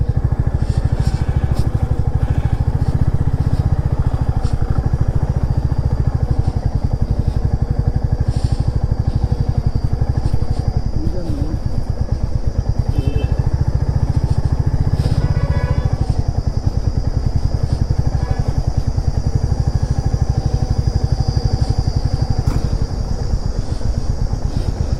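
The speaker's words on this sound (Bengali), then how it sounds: "চাকা খালি স্লিপ খাচ্ছে।" A motorcycle engine drones loud and steady for the whole stretch as the bike rides a dusty dirt road on a solo trip from Varanasi toward Kanpur, with rough clattering from the loose surface.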